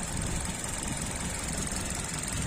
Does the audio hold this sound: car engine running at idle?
yes